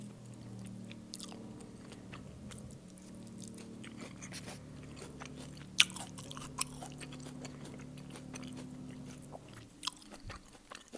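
Sushi rolls, including baked ones, chewed close to the microphone in a mukbang: soft, steady wet mastication with occasional sharper crunchy bites, quiet and continuous, with no talking.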